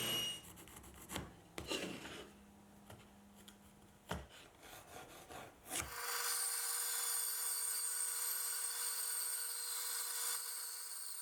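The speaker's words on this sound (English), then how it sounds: "Now I'm ripping 2 pieces of sapele that will be attached to the cross brace for securing the top." Sapele hardwood boards ripped lengthwise on a saw, with several loud bursts of cutting and rubbing over the first six seconds, then a steady whining motor hum that continues alone until the end.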